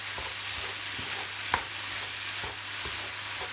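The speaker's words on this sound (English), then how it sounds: "I got the temperature up high because I want to fry off the liquid" Liquid from mushrooms sizzles and bubbles steadily in a Morphy Richards oval slow cooker set on high, a soft continuous frying hiss broken by a few faint stirring clicks.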